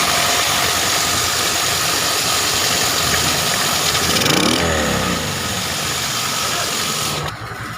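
A Honda XRM125 carbureted motorcycle engine with full-wave charging runs with no battery fitted, a loud, close, steady idle with a brief rev midway before settling back.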